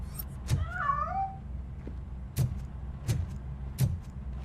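A cat meows once in a Robocop: Rogue City game scene, a short wavering cry near the start, followed by several sharp thumping knocks spaced irregularly over a low ambient rumble.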